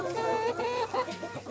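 Laying hens cluck steadily and fairly close, several overlapping murmuring calls forming a continuous busy flock chatter with no speech.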